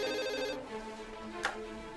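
A telephone rings with a bright electronic ringtone, one burst that cuts off partway, followed by a quiet room with a faint click.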